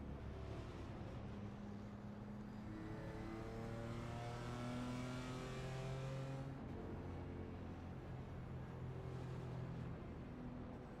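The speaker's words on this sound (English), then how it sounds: "One thing I will say about the M4 though is it does sound really nice when you lift off." A BMW M4 GT3 race car in the iRacing game at Daytona lifts off the throttle, its engine note dropping into a smooth, droning overrun with shifting tones, steady and fairly close, with no talk.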